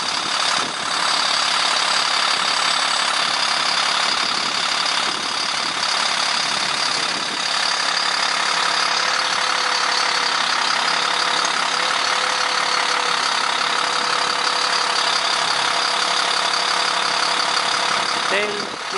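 A bucket truck engine idles steadily outdoors in bitter cold near minus 22 degrees, a constant mid-pitched rumble with wind-like hiss running throughout the clip.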